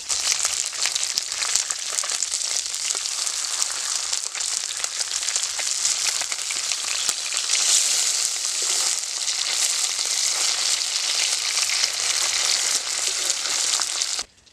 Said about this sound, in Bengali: আমার এক পিট ভাজা হয়ে গেছে এবার মাছগুলো আমি একটু উল্টে দিব